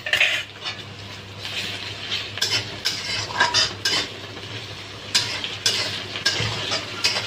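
Ginger, garlic and chili paste sizzles in a hot pan with repeated scraping and stirring clatter from a utensil against metal, close and steady, no voices.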